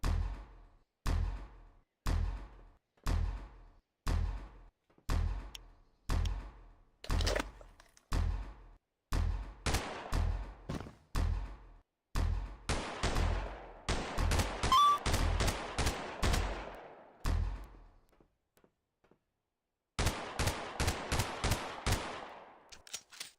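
Simulated gunshots from an FPS game engine fire as evenly spaced single loud bangs, then bunch into faster bursts, a pause, and a final rapid burst.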